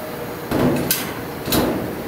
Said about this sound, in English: So I'll close this door.